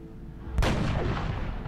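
Gunfire in the strategy video game XCOM as the soldier Astrid shoots an enemy, a single heavy booming blast with a long rumbling decay, loud and close, with no talking.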